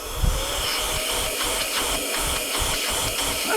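Electric compressed air duster, a three-speed 100000 RPM keyboard cleaner fitted with a larger nozzle, blowing with a steady loud airy whoosh and faint pulsing for several seconds, alone with no talking.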